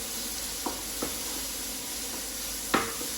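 Red onion sizzles steadily in a pan, a close, even hiss broken by a few soft stirring scrapes and one sharper clatter near the end.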